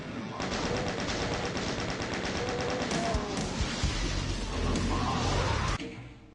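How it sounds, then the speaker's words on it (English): A chaingunner enemy in the Doom video game fires a long, steady rattling burst of rapid shots that carries on for several seconds before cutting off abruptly. "The only one that's upset us is that chain gunner up there."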